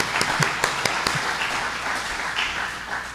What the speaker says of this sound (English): I want a big round of applause for these gentlemen